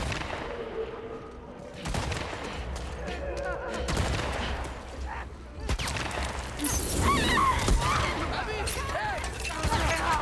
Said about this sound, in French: Faut qu'il arrête de me flinguer.